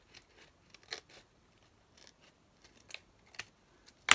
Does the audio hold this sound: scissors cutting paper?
yes